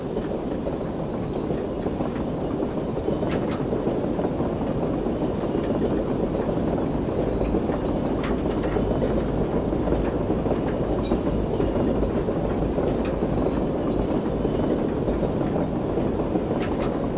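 A ghost train in the survival game The Parasites rolls steadily past with a continuous rumble and faint rhythmic clatter of wheels, sustained and fairly loud for the whole stretch with no talking.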